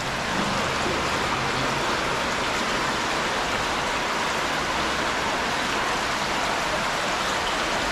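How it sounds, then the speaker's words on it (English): Air bubbles stream up from a WUBEN Falcon flashlight submerged in freezing water, a constant loud, hissing gurgle of bubbling and rushing water with no pauses. "Water's coming, air bubbles are coming out."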